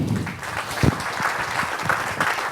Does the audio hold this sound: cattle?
no